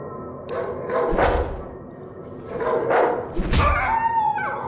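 A dog in the survival horror game Darkwood barks loudly several times in short, gruff bursts with thuds between them, followed by a brief higher whining yip at the end.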